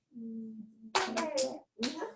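A single sharp hand clap during a children's music class, close and crisp, with a child's and an adult's voices talking around it.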